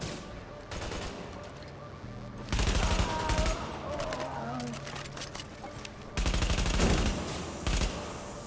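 Gunfire in the video game The Division: bursts of rapid automatic shots arrive in two loud volleys, with quieter shooting in between, while a player talks over the action.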